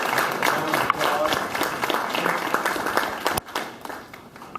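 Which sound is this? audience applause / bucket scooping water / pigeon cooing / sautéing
audience applause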